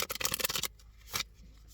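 Oracle cards riffled and shuffled by hand during a card reading, a quick burst of crisp flicking and slapping followed by a pause and one shorter shuffle, close and alone.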